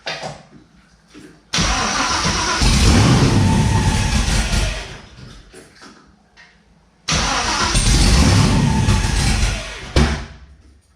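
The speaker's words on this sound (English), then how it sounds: "I just want to start it and see what it sounds like with a straight pipe to an X, no mufflers" A GM LSA supercharged V8 swapped into an LH6 vehicle cranks and fires through a straight-piped exhaust joined at an X-pipe with no mufflers. It blasts loudly, drops back, then restarts with a second loud, rough burst that fades out.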